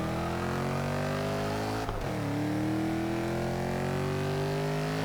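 A Mercedes race car engine in Forza Motorsport 6 drones loud and steady, rising in pitch through the revs with a brief dip around a gear change before climbing again, with no voices over it.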